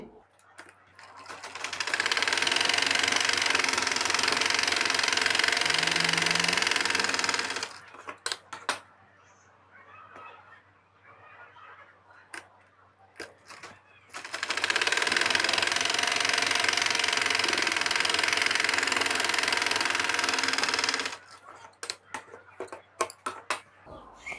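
An electric sewing machine stitches a trouser pyjama leg in two long, steady whirring runs, separated by a quieter pause filled with clicks and handling of fabric.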